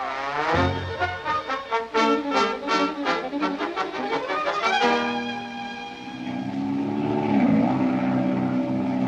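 A propeller airplane roars through a barrel roll in a radio drama, the engine pulsing in rapid loud surges that then sweep into a long, steady drone with a shifting pitch.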